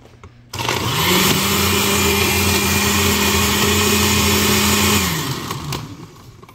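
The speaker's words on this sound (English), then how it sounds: "This will get loud for a minute, and due to kids, I don't have a lid for my blender" A blender covered with a small plate instead of a lid kicks on abruptly, blending chicken for homemade pet food, and runs at a loud, steady whir for several seconds, then winds down and cuts off near the end.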